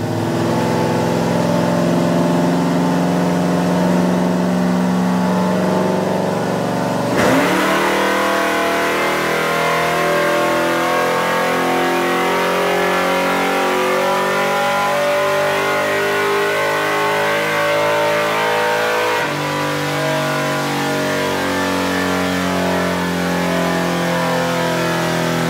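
On a dyno, a naturally aspirated car engine revs hard through a long sustained pull, its loud droning tone climbing and shifting, with a sharp change of pitch partway through as if from a gear change, and no voices.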